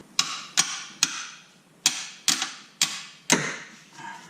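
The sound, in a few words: hammer striking bolt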